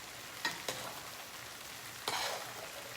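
Curry tofu being mixed with crushed mint in a pan, a soft background sizzle with a few quick scraping strokes of stirring, nobody speaking.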